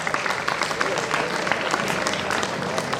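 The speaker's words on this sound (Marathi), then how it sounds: "जोरदार टाळ्या वाजवायला पाहिजे" An audience at a college talent contest claps steadily for the contestants, a dense, even patter of many hands throughout with a faint murmur of voices underneath.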